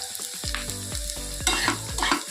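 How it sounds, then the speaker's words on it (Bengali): Onions frying in hot oil, a continuous crackling sizzle with a few scraping stirs of a spatula across the pan. "পেঁয়াজটা বেশ ভালো করেই ভাজা হয়ে গেছে"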